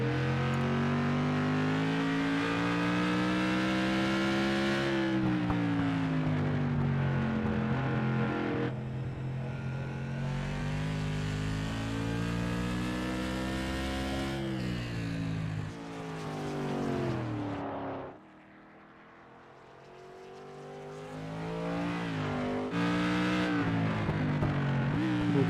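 A modified race car engine in the iRacing sim roars steadily around Martinsville Speedway, loud and tonal, with pitch rising and falling through the corners, a brief drop in power, then full throttle again.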